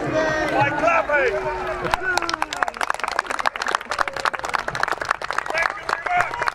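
Crowd clapping at an armed forces weekend in Felixstowe, sharp dense claps spread across the whole stretch while a voice talks loudly over the start.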